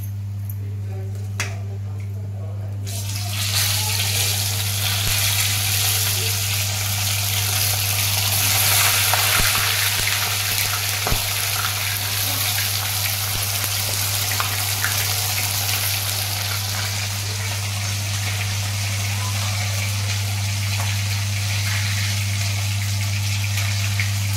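Chilapi fish fry in a pan with a broad, continuous sizzle and crackle that starts after a few seconds and stays loud and steady over a constant low hum, with scattered pops.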